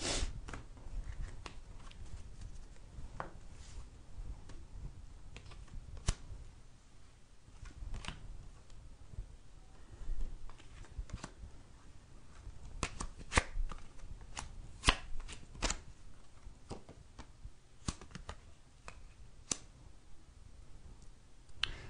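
Cards are laid out one after another for a live televised psychic reading, heard as soft, sparse taps and flicks on a table, close and quiet, with irregular clusters of clicks throughout.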